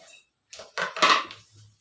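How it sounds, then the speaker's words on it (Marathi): An iron tawa griddle set down on a home kitchen stove, a few short metallic clanks and scrapes close by, separated by brief silences and ending in a faint low ring. "आता मी इथं लोखंडी तवा ठेवला"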